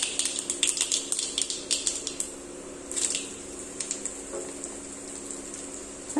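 Mustard seeds spluttering in hot oil for garlic rasam, a quick close run of sharp pops and crackles that thins out into a faint, occasional patter.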